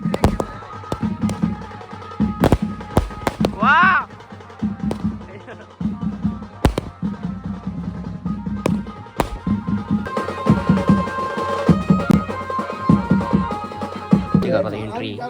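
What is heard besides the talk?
firecrackers going off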